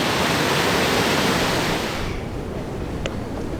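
A full river swollen with melted snow rushes loudly under a bridge in Durham, a dense roar that eases partway through to a slightly softer but still constant wash, with no talking.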